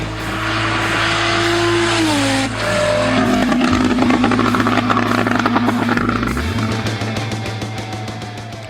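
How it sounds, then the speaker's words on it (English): Older Porsche 911 Turbo engine, loud and close, holding a steady drone before revving up through a pulsing, rising roar, then settling back to a lower throbbing tone. "Steve Kraft, his Porsche 911 Turbo. That's an older car sound."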